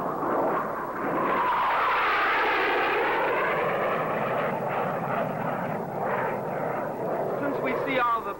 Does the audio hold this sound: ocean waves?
no